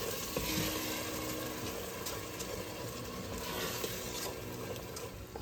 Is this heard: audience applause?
no